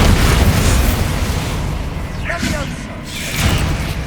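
A Bombarda explosion spell goes off in the video game Hogwarts Legacy, a loud, dense burst of rumbling blast noise that fills the whole moment and swells again near the end.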